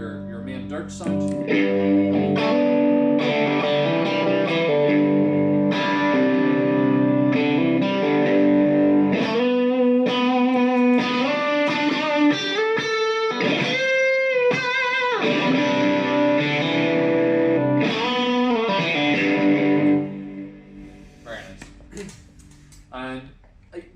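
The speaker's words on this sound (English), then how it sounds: "with that boost on top of the overdrive, we're getting kind of saturated" A distorted electric guitar through an overdrive pedal with a boost on top plays chords and sustained notes, thick and saturated, then fades to a quieter tail near the end.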